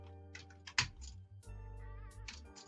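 Keystrokes on a computer keyboard while searching for the Windows Control Panel, a quick cluster of clicks followed by a few scattered taps, close and moderately quiet over a steady low hum.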